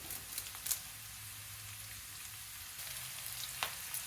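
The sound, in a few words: green chillies and curry leaves sizzling in a pan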